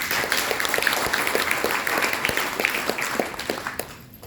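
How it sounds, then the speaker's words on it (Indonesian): An audience at a business opportunity presentation gives loud, continuous applause, with individual close claps standing out over the dense clapping throughout. "Tepuk tangan dong buat prudensial."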